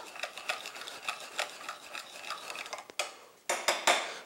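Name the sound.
mixing cayenne pepper, pepper and salt marinade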